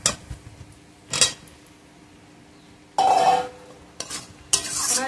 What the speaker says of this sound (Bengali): এবার আমি ভেজে রাখা আলুগুলো দিয়ে আরেকটু কষিয়ে নেব।